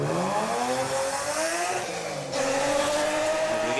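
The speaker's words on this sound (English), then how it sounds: "As we get the very loud BMW of Liam McMahon underway" A very loud BMW race car, driven by Liam McMahon at a Christchurch street sprint, pulls away under hard acceleration with a rising engine note, a brief dip, then climbing again as it continues revving, close and unbroken, with no talk.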